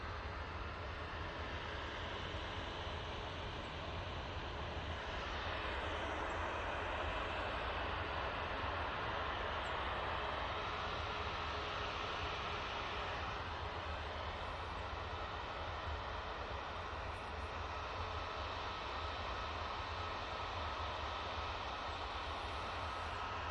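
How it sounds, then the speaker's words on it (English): A Ryanair airliner departing for Palma de Mallorca gives off a steady, distant jet engine roar that holds at an even level throughout. "Ryanair. Off to Palma de Mallorca now."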